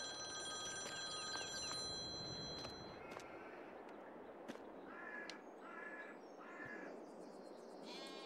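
A phone ringing while calling the bank in Farming Simulator 22, repeated electronic ring bursts in a regular pattern over faint rural background noise with crow-like caws and animal calls.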